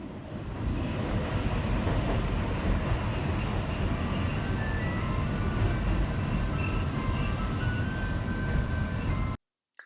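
Inside a moving surface tram in Okayama, Japan, a steady low rumble of wheels on rails runs throughout, with faint squeals and rattles, before the sound abruptly drops away.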